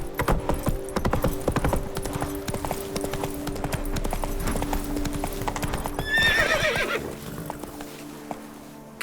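Horse hooves clip-clop at a gallop in The Witcher 3: Blood and Wine, a fast, steady rhythm up close, ending with a sharp whinny and neigh near the end.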